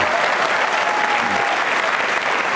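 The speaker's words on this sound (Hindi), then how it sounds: "तालियां बजाइए इनके सम्मान में जोरदार तरीके से" A studio audience at a televised special episode applauds loudly and steadily, dense continuous clapping throughout.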